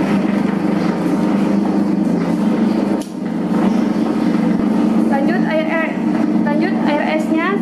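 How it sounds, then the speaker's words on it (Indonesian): A dough mixer kneads sweet bread dough of flour and liquid vanilla, a steady low mechanical hum running throughout beneath a person talking. "Bahkan mesinnya langsung mengadon ya teman-teman"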